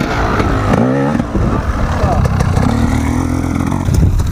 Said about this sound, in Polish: Czysty tak kurwa jest zarąbisty motorek, bo niedużo gazu i to idzie